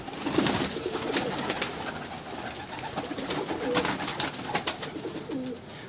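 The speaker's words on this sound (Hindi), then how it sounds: "ये देखें ये स्ट्रेट पर का कबूतर है" Straight-tailed pigeons coo in repeated soft, rolling phrases against a steady background hum, fairly close and moderately loud throughout.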